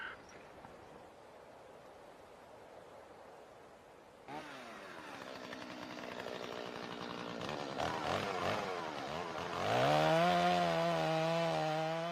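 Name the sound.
chainsaws cutting wood in a snowy forest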